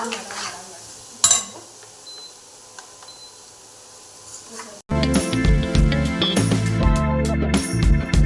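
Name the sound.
vegetables frying in a pan for veg momos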